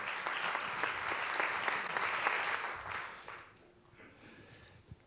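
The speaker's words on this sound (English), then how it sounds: "Give him a warm applause." A conference audience applauds a speaker, steady dense clapping for about three seconds that thins out and fades, leaving a quiet room with a few last claps.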